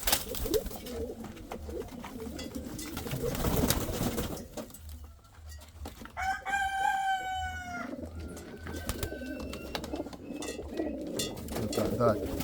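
Indian fantail pigeons cooing around a loft, repeated soft coos near and far with a clearer call midway, over outdoor background noise.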